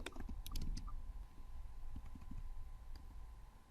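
Quiet tapping of computer keys in a short, irregular burst, close by, with faint room hum underneath.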